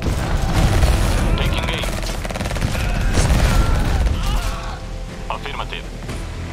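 Real-time strategy units open fire in sustained volleys with booms and cracks, fairly loud and continuous at first, then thinning out, while unit voice acknowledgements speak over the battle.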